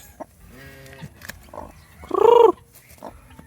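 Heritage chicken chicks and a hen make short, scattered clucks and peeps close by, with one louder, longer call standing out near the end.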